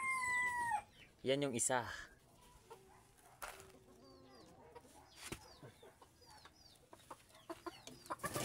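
A rooster crows once nearby, followed by scattered clucks and chirps from fowl including junglefowl amid outdoor ambience, with brief talking.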